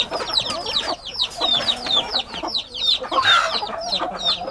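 Aseel hen clucking in a steady run of short, repeated calls, close and fairly loud, with other farm birds and faint background noise around her.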